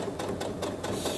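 A sewing machine running backstitches over an existing seam on a small fabric coin purse, a steady close mechanical whir with a rapid rhythmic needle chatter, heard briefly with no speech.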